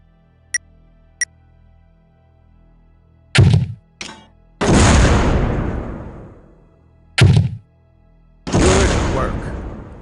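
Grenade launcher on an OICW rifle firing at a brick wall in Soldier of Fortune II, two faint clicks, then sharp launch thumps each followed by a long booming blast that fades, the pattern repeating twice.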